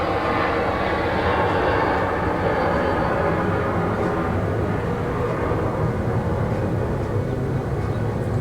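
Propeller or jet aircraft engines roar steadily overhead for the full stretch, a loud, continuous broadband drone with no talking.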